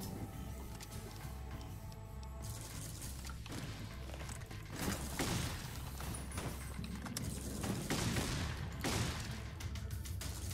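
Sustained mechanical gunfire from a minigun in Fallout New Vegas, a dense continuous rattle running throughout at steady loudness, swelling louder toward the middle and end.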